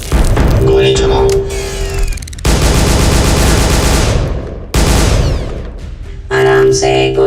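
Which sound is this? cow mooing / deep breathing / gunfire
gunfire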